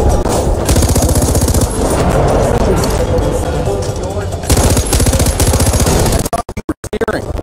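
Rapid bursts of automatic gunfire crackle continuously while driving in the video game Far Cry 4, loud and dense, with vehicle noise underneath and a few sharp isolated shots at the end.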